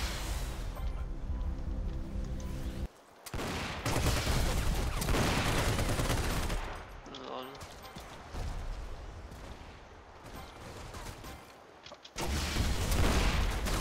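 Gunfire in the video game Battlefield Heroes rattles in dense, loud bursts that run almost continuously, with brief gaps and a heavy sustained barrage at the end.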